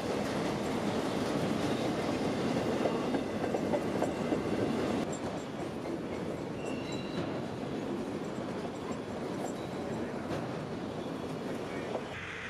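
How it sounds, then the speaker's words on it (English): Freight train 452 rolls past in South Lakeland, climbing a hill onto a subdivision, with a loud, steady rumble of railcars, wheel clatter and faint squeals that ease slightly partway through. "a train snaking from right to left as they conquer the hill"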